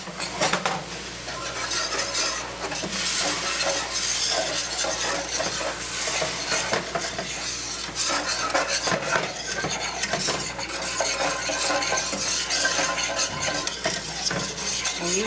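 Beef broth being stirred into a hot pan for Salisbury steak gravy: continuous scraping and clinking of a utensil against the pan over a steady sizzle, close and busy throughout.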